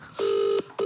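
Telephone keypad dialing tones for a phone call, a steady loud DTMF beep broken by two brief gaps into three tones, with no talk over it.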